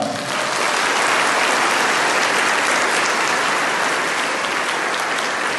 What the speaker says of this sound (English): Let's have a round of applause for your teachers.